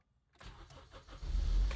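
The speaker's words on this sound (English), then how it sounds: "Maybe I'll start the car." A Honda CR-V engine cranks and catches after a moment of quiet, then revs up into a loud low rumble close by.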